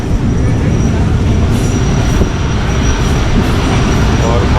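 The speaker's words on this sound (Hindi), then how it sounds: "और मारवी पैसेंजर अपने दूसरे स्टेशन पे रुकने के लिए ब्रेक्स लगा चुकी है।" The Marvi Passenger train brakes before a station in the Thar Desert, a loud, continuous rolling rumble of wheels and carriages with a faint high squeal above it.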